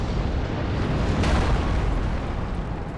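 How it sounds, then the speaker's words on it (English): A Fire Tempest pyromancy blast in Dark Souls rumbles as a dense, sustained roar of erupting flame, loud and close throughout, with a brief brighter burst near the middle. "It's hitting the Fire Tempest."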